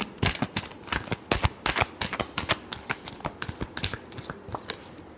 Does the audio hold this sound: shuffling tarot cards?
yes